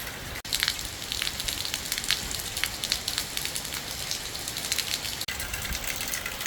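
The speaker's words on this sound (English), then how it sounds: "It's still raining heavily outside." Heavy rain pours down outside during flooding in Vietnam in a dense, steady hiss, with drops pattering hard on surfaces close by.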